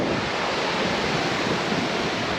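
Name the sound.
sea waves at the beach in Jamaica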